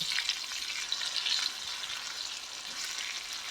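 Potato stir-fry sizzling in a pan, with a steady bright crackle of hot oil and faint stirring scrapes throughout, close and continuous with no voices.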